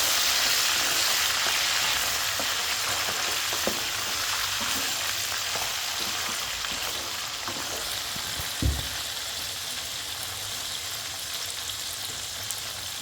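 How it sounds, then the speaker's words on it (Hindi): Mutton sizzles and fries steadily in hot oil for a Peshawari karahi, a dense continuous crackle with occasional stirring knocks and one louder thump near the end, close and alone. "ये देखें माशाल्लाह मटन बहुत अच्छी तरीके से फ्राई हो चुका है"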